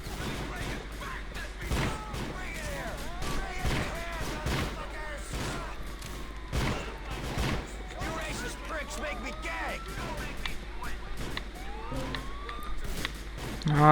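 Police sirens wail amid bursts of gunfire and chaotic action in GTA IV: The Lost and Damned, with voices talking over the noise.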